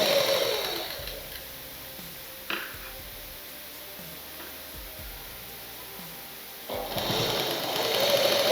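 An electric sewing machine stitches a blouse lining, its motor whirring in a loud burst at the start, then going quiet, and starting again for a steady run near the end, close up.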